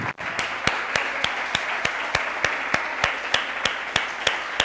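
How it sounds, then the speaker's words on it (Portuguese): A church congregation applauds during a worship service, dense steady clapping punctuated by a loud, regular beat of sharp synchronized claps, roughly three per second, with no talk. "Vamos aplaudir o Senhor, vamos aplaudir aquele que opera tudo em todos"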